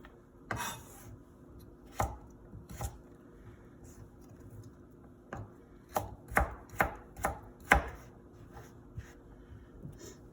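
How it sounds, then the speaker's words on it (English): A knife chops vegetables into small dice on a cutting board for Italian wedding soup, sharp irregular taps at first, then a quicker run of cuts, close and clear. "then we're going to go across for our small dice"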